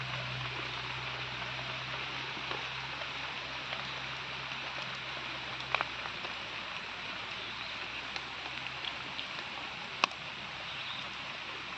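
Rain falling outdoors as a faint, steady hiss with a low hum underneath and a few scattered sharp drips or taps, going on evenly with no talking.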